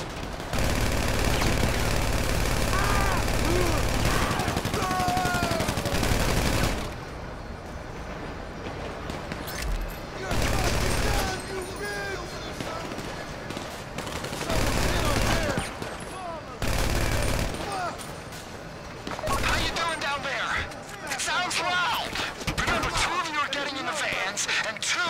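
Gunfire during a heist mission in the video game GTA 5 on PC: loud bursts of rapid automatic fire and fusillades alternating with quieter gaps, with a player talking over parts of it.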